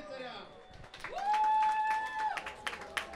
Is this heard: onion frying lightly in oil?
no